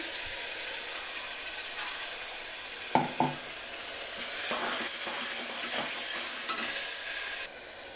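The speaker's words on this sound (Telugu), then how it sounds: "ఇలా బాగా ఆయిల్ సపరేట్ అయ్యేదాకా ఉడికించుకోవాలి. ఈ మసాలా మొత్తం ఉడికిపోవాలి." Masala paste of ground cashews, ginger and garlic sizzles in oil in a pan for mushroom curry, a steady close frying hiss with a few sharp clinks of a spoon against the pan partway through.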